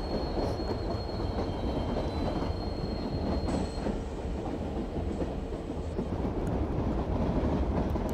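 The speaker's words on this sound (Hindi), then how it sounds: "तो ये ट्रेन हमको ओवरटेक कर रही है" A passenger train on an Indian express route rolls past on the adjacent track while overtaking, a loud continuous rumble with steady wheel noise and faint high squeals throughout, heard from inside a moving train with no voices.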